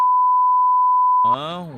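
A long, steady censor beep on a Jaya TV Killadi Rani contestant segment blanks out a word for over a second, then a voice immediately starts talking.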